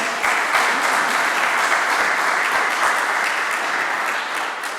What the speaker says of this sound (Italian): Un applauso anche per il Presidente.